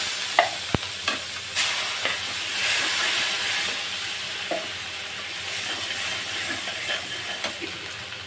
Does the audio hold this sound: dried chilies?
yes